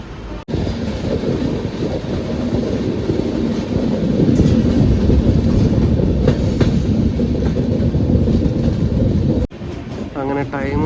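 A passenger train running from Trivandrum to Calicut rumbles steadily on the rails, with a loud, continuous rolling roar and rattling, recorded from inside the moving carriage without talk.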